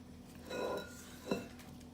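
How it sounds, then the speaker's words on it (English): A spatula scrapes around the sides of a mixing bowl of raspberry lemon cookie dough, giving two short scraping strokes, with a brief clink against the bowl near the end. "Okay, so I'm scraping down the sides."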